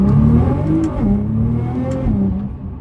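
A Nissan GT-R engine revs hard through an acceleration pull, a deep, loud, rising drone that drops briefly with gear changes before climbing again, heard from inside the car with road and wind noise underneath.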